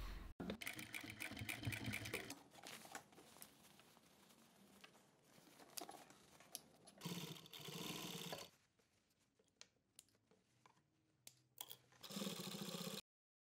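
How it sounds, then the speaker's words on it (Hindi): A sewing machine stitches along the original hem line of thick denim jeans, running in loud, continuous whirring bursts with brief pauses and slower, quieter stretches between them, close up with no talking. "मैं वही लाइन पर सिलाई कर रही हूँ जहाँ असली सिलाई की लाइन थी"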